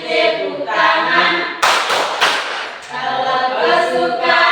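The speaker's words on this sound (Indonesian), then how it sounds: "Kalau kau suka hati tepuk tangan" A group claps hands together in a brief run of quick, sharp claps between stretches of children's singing, all fairly close and loud.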